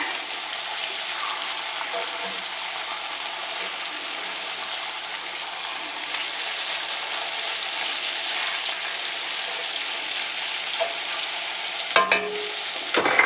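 Meat searing in a cast iron pan while braising, giving a soft, steady sizzle that holds throughout with no talk, ending in a few louder clatters of a utensil against the pan.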